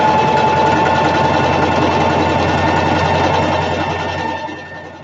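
A sewing machine stitches wavy quilting lines through fabric over foam for a storage bin, a fast continuous mechanical whir running alone at close range before tapering off near the end.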